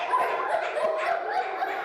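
Children's voices imitate a dog barking in a quick run of short, high yips and woofs during a classroom animal-noise game, overlapping in a lively cluster at moderate loudness.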